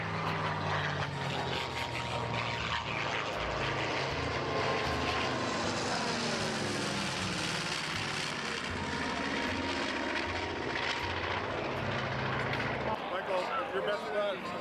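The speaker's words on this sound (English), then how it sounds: "We got some wonderful airplanes flying over the battle." Airplanes, including a P-51, fly over a staged battle reenactment at an air show, a steady loud propeller-engine drone filling the whole stretch with people talking underneath.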